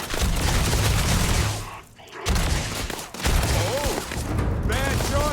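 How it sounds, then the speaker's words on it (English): Sustained gunfire in the sci-fi video game Starfield, dense rapid bursts of shots close up that pause briefly and then resume, with a voice talking over the shooting. "Suppressive fire now."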